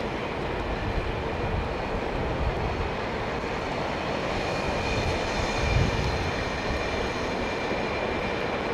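An Airbus A320 jet engine starting up at London Heathrow gives a steady, dense roar that holds at an even level throughout, swelling briefly about two-thirds of the way in, with no voices.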